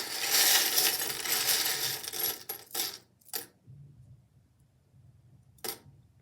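Divination charms are cast for a pick-a-card reading, a bright clattering jangle of small metal pieces that tumbles and settles over about three seconds, followed by a couple of isolated clinks.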